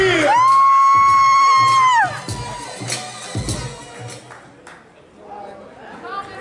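A live audience for a solo artist at an entertainment center cheers loudly with a sustained whoop for about two seconds, then the noise drops to scattered voices and chatter.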